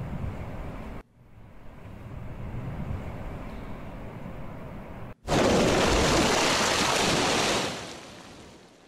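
A character plunges into water in the SpongeBob horror video game Red Mist: a sudden loud splash at about five seconds gives way to rushing, roaring water, after a steady windy, wave-like ambience broken by a brief dropout.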